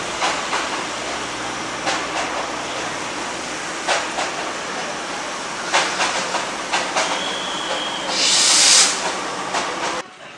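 A small Darjeeling Himalayan toy train runs steadily nearby near Kurseong, with rhythmic clicking on the rails and a brief hiss of steam near the end, no talking.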